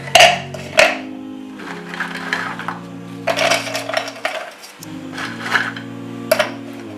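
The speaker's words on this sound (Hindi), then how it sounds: "अब हम बिस्कुट को ग्राइंड करेंगे। इन्हें हम ग्राइंडर में डालेंगे।" Cream-filled biscuits, with the cream scraped out, drop into a kitchen grinder jar, giving a run of hard, clattering knocks and clinks against the container, close and fairly loud, with a faint background hum.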